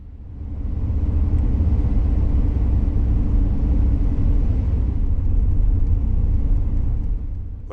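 A vehicle climbs a grade westbound on US Highway 160 with a steady, loud low rumble of engine and road noise heard from inside the cabin, with no one speaking.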